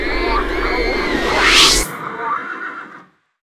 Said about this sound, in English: a very quick one of the chandelier smashing, with horse neighing and the violent screams of various men, women, children